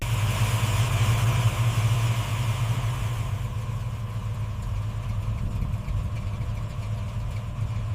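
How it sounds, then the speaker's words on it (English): A 1957 Cadillac with a 355 cubic inch engine idles steadily with a low, even rumble, loud and close, with a constant drone and no speech. "the 355 cubic inch engine provides incredible power"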